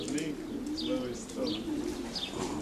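Pigeons arriving at a loft give soft, low coos and a few brief chirps, fairly quiet and close, with faint background noise throughout.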